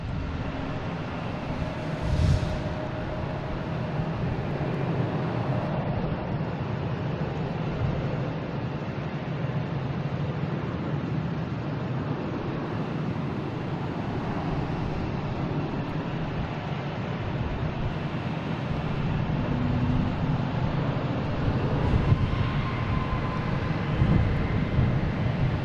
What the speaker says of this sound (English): JetBlue is landing on 4 left.